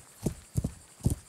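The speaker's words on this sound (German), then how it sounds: "Unser Pferd will sich gar nicht mehr bewegen." Horse hooves in the medieval video game Kingdom Come: Deliverance, three clip-clop double thuds in a slow, uneven gait, close and fairly soft over a quiet background.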